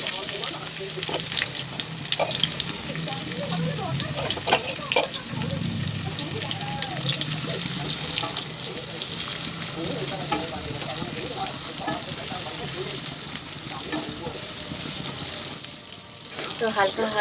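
Onions fry in ghee in a wok, a steady loud sizzle with occasional stirring scrapes, close up, while someone talks over it.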